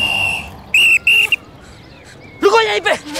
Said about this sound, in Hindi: पिछले सिग्नल से सीटी पे सीटी बजा रहा हूँ